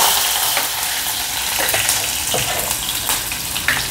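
Curry leaves fry in hot oil in a kadhai with mustard seeds and green chillies, a loud continuous sizzle broken by scattered crackles and pops, close up, no voices.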